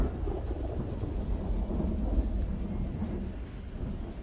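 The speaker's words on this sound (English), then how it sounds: "Oh my god, that thunder is so loud." Loud thunder in the Project Zomboid video game, a low continuous rumbling roll that swells and lingers for several seconds with a faint rain-like hiss above it.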